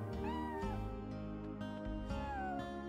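Cat meowing in the video game Chrono Cross, two distinct drawn-out meows with rising and falling pitch over steady game music.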